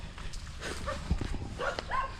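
Dogs near a rural yard with fighting-cock pens, giving a few short, faint barks and yips at a distance amid outdoor background noise, with no talk.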